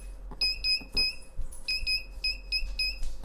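Homemade metal detector built from Amazon parts giving a series of short, high electronic beeps in irregular bursts, fairly close and clear over a low steady hum, with no talking.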